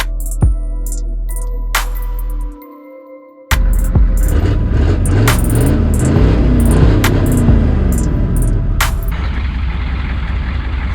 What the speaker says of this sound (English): It's a little smoky. Once it actually warms up, the smoke goes away. And you can see the exhaust does not work.